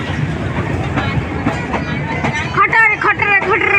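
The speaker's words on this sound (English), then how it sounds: "This is the passenger gaadi." A passenger train rumbles and clatters past at Tikuniya station near Dudhwa National Park, a steady loud mechanical roar with rhythmic rail clicks, while people talk close by toward the end.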